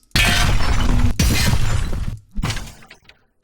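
Layered cinematic trailer hits from the MotionPulse library: three loud, close booming impacts with shattering, glassy crash textures, each decaying before the next, the last one shorter and quieter.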